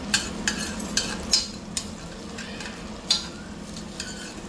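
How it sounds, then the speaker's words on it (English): Onion for a pumpkin risotto cooks in a Dutch oven, a low constant sizzle overlaid with a string of crisp spoon scrapes and knocks against the pot, close and fairly loud. "we're going to go ahead and drop in the onion. And then we're going to cook that."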